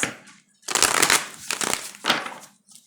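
Close hand shuffling of a tarot deck, a few quick papery riffles and soft slaps, starting after a brief quiet moment and fading at the end.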